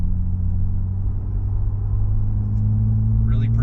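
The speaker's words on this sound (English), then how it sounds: "For the around town or the simulated city driving, just got a nice deep whir to it" A Jeep Wrangler with a 3.6L V6 and MRT axle-back exhaust cruises in city driving, giving a steady, deep low rumble and whir that holds close and even throughout, with a faint voice near the end.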